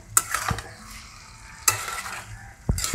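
A spatula stirs labra, a mixed vegetable curry, in a pan amid a soft sizzle, with three distinct scraping strokes spaced about a second apart.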